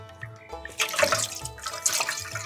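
Water runs and splashes as hands are washed at an outdoor riverside cooking spot at Kunighat, Bogura, with irregular splashes over a steady tonal background hum.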